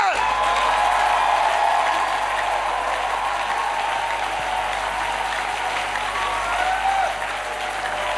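A church congregation claps together in sustained, dense applause that fills the room, with a few voices rising through it before it eases slightly at the end.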